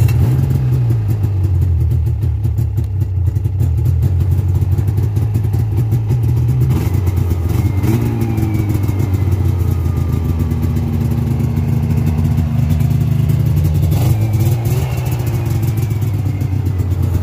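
A snowmobile with electric start and reverse and about 71,761 miles idles steadily for the whole stretch. The rumbling, clattering drone is close and continuous, with brief throttle blips that raise the pitch twice.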